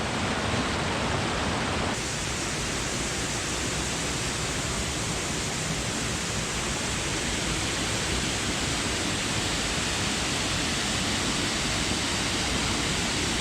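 Waterfall on the Bloomfield Track in Queensland, a steady, dense roar of falling water that stays loud and unbroken throughout, with no voices.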